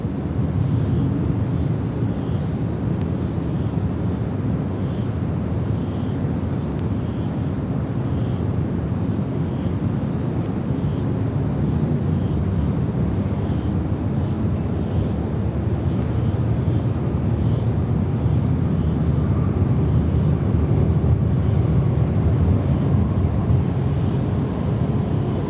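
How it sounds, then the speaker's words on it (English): A Qantas Airbus A330-200 arriving on runway 34 left at Sydney Airport, heard as a steady, distant jet roar mixed with heavy wind buffeting the microphone, holding level throughout with no talk. "So our next arrival, another one of our Qantas A330 200s."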